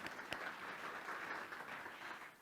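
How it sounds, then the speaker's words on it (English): A congregation at a church service applauds together, a faint, steady patter of many hands clapping heard from a distance throughout. "Let's applaud those that have done that."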